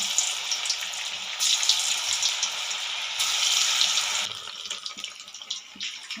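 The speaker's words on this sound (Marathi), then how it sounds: "यात आपण तळून घेणार आहे" Pieces of paneer tikka fry in hot oil with a steady, bright hiss and crackle that surges and eases in waves, close and continuous with no voices.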